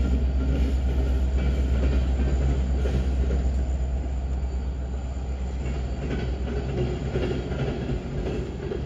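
A grain train rolls past on the rails with a continuous loud rumble and rattle of wagons and wheels, steady throughout with no talking.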